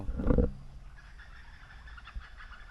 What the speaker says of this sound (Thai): เสียงไก่ป่า